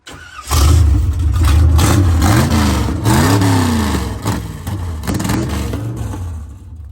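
A hurricane-damaged diesel truck's engine fires up and revs in several loud, close bursts, pitch sweeping up and down between throttle blips before settling lower, with no talking.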